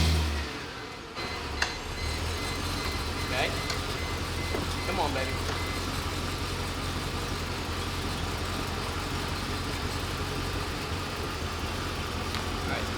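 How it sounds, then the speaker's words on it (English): A Mercedes engine turns over and settles into a steady low idle, a continuous rumble filling the clip, while someone speaks briefly over it. "Maybe if the car started."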